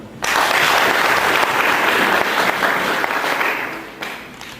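Loud, dense applause from an audience at a network marketing training event, sustained for several seconds before tapering off.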